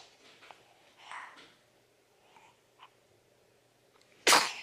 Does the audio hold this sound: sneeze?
yes